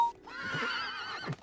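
A cartoon pony from My Little Pony gives a clear, drawn-out whinny lasting over a second. The neigh wavers in pitch and ends with a short snorting breath, close and prominent.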